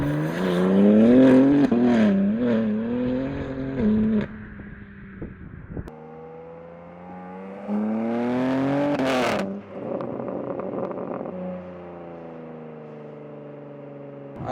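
BMW M3 G80 with an OPF-delete exhaust system, revving repeatedly in loud rising and falling bursts with crackles, with a sharp high rev spike near the middle and idle rumble between.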